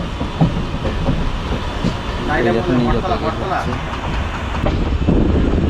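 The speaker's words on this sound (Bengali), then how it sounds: "এখন আমার ট্রেন ঢুকে গেছে নিউ জলপাইগুড়িতে" Train 13115, the Sealdah–New Jalpaiguri Humsafar Express, rolling into New Jalpaiguri station: a steady, close rumble of carriages with faint wheel clatter, while someone talks over it.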